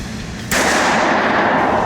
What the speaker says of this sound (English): Now, I'm shooting kind of high.